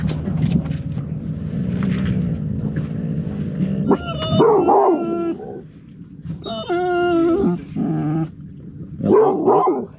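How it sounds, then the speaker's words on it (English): Dog barks and yips at a buoy ring out in bursts over a steady boat engine rumble on a river, with a growling whine between them. "barking at the buoy still"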